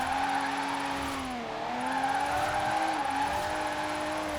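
A car drifting in Forza Horizon 4 at a steady, droning engine pitch that dips twice and recovers, as if the engine is labouring in fourth gear, with tyre noise and no talk.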